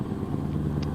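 A Scania 730 V8 truck in Euro Truck Simulator gives a steady low, droning engine-brake rumble, close and unbroken for a single second.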